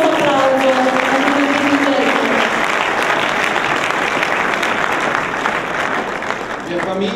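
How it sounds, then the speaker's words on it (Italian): A large audience at an award ceremony gives sustained, dense applause that stays loud and even throughout before easing slightly at the end. "Un grosso applauso."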